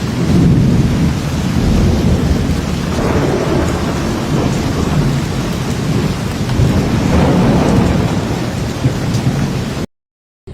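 Heavy rain pours steadily in Rajkot with deep rumbling thunder rolling through, loud and close, before cutting to sudden silence near the end.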